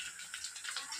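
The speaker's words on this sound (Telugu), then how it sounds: "పప్పులోకి వేస్తాయి నీళ్ళు." Water is poured into dal during home cooking in a brief, soft, hissing gush, faint and steady throughout.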